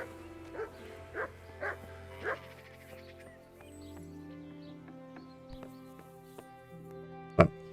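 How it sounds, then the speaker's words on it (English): A dog barks a few short times at a moderate distance over a steady musical backdrop in the video game Kingdom Come: Deliverance, followed later by a single sharp, loud hit. "Hello, doggo. Woof woof."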